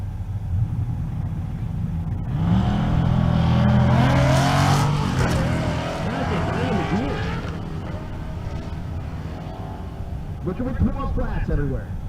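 Drag race launch at a race week event in Kearney, Nebraska, with a third-gen Camaro and an S197 Mustang roaring off the line, loud engine rumble swelling and sweeping past, heard under continuous announcer commentary.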